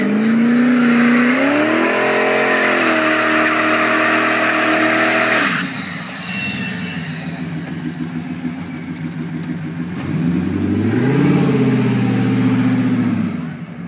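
A 550-horsepower turbocharged Fox Body Mustang with a 5.3 engine races an all-wheel-drive, 300-horsepower tuned Evo. Loud engines rev and rise in pitch through gear changes, ease off midway, then roar up again, close and continuous.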